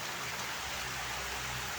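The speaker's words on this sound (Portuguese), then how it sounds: "Já tá chovendo por aqui." Steady rain falls with a dense, even hiss that has no breaks and no voices, like a continuous downpour close by.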